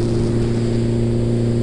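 A Suzuki GSX-R Hayabusa turbo motorcycle at full throttle gives a loud, sustained, buzzing engine tone with strong steady harmonics, held without break for under two seconds.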